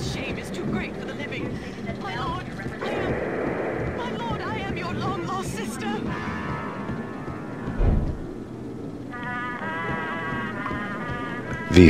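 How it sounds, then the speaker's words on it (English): Winter storm in the video game Max Payne: steady rain hiss with thunder rumbles, one heavy crack near the middle and another at the end, under a newsreader-style voice and game sounds. "The worst winter storm in recorded history continues to pound."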